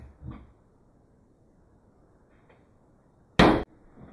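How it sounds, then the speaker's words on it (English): A metal punch struck once with a hammer to knock out a part on a Tippmann Cyclone paintball feed ratchet, a single sharp, loud impact after faint handling taps. "we're just going to take our punch, put it on top of there, and knock that out with a hammer"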